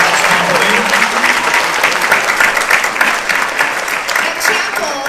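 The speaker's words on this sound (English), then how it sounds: "Let's give another round of applause for the Lexington Opera House." An audience at a seniors talent show in a Lexington opera house gives a sustained round of applause, dense and loud clapping that stays steady for about five seconds.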